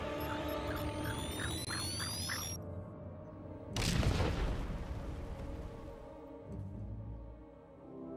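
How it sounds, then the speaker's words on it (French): A bomb detonates in the video game Star Wars: The Old Republic, a sudden deep boom that cuts in after tonal game music and decays into a low rumble, no speech over it. "Encore une bombe!"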